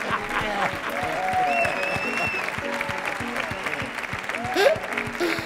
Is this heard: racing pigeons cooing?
no